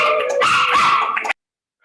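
A dog gives a short burst of high, strained yips and whimpering barks, loud and close, over about a second before it cuts off abruptly into silence.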